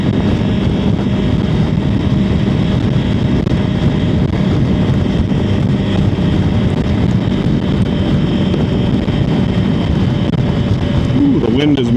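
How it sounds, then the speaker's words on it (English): Strong wind blowing outdoors during a walk, roaring loudly and constantly against the microphone with heavy low buffeting throughout. "Ooh, the wind is mad at me today."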